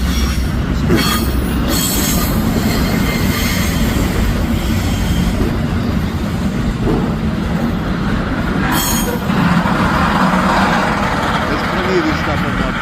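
Four locomotives rolling through bushland, a loud, close, continuous rumble of engines and rail cars with wheel squeal and clattering over the track, sustained throughout.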